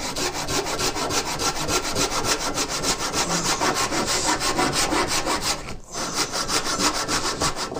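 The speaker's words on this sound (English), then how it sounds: "So let me get to sawing this next board." Hand saw cutting through a wooden board, a fast, regular back-and-forth rasp of strokes close up, with one brief pause before the sawing resumes.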